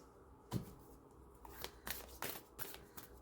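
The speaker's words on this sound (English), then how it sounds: "This deck doesn't want to shuffle." A tarot card deck being shuffled by hand, with a quiet lead-in, then a sharp riffle and several papery shuffling bursts at close range, with no talking.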